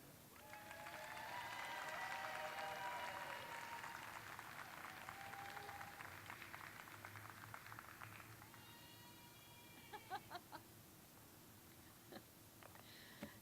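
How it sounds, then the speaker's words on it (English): Crowd at an outdoor Chamber of Commerce picnic applauds and cheers for a Kentucky House candidate, a steady wash of clapping with whoops that slowly thins, then a few scattered sharp claps near the end. "Nothing like having your cheering crowd with you"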